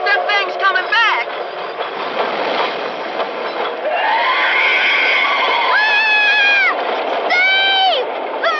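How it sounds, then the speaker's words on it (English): In the Fallout 76 game world, an approaching train sounds loud and close, with a long blaring horn and screeching wheels rising over rumbling rail noise, and shouting voices mixed in. "The train's almost here."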